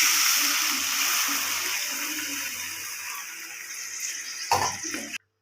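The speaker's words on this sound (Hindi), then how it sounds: "एबे सेथिरे आमे पानी दे दबा।" Water is poured into a hot pan of Mahurali fish and potato curry, a rushing, hissing pour that gradually eases, ending in a brief clatter and splash before stopping abruptly.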